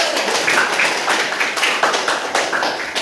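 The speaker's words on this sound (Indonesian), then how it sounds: "bagus, tepuk tangan dulu." Classroom applause from pupils after a group gives its answer, a steady patter of many small hands clapping for about three seconds, fairly close and even, with no talk over it.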